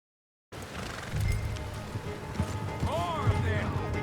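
A galloping horse in Red Dead Redemption 2 gives a low, steady drumming of hooves beneath a noisy outdoor mix of distant shots, while voices call out over it.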